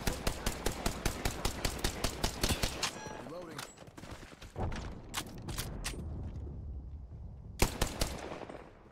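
Rapid automatic gunfire from an Apex Legends match, a steady string of sharp shots for about three seconds, then scattered single shots and a short final burst, with game voice lines and ambient effects underneath.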